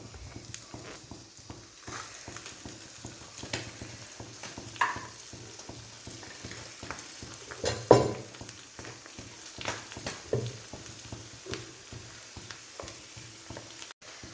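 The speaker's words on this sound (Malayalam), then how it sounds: "ഇനി ഇഞ്ചിയും വെളുത്തുള്ളി അത് ഒപ്പം ഒപ്പമാണ് ഇടുന്നത്" Ginger and garlic fry in hot oil with popped mustard seeds, fenugreek and asafoetida for a fish pickle, making a steady crackling sizzle broken by occasional clinks and scrapes of stirring, heard close up.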